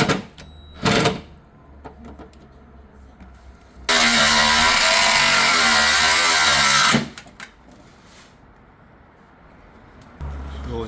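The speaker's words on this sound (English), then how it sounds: "Those are so rusted, we decided to just cut that off." Rusted taillight bracket bolts on a 2002-2004 Acura RSX being cut off with a power tool, giving a loud, steady harsh grinding roar for about three seconds between quieter clanks and handling noises.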